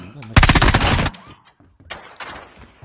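Machine gun fire in the mobile shooter Call of Duty Mobile, a loud dense burst lasting under a second followed by quieter scattered shots and faint game sounds.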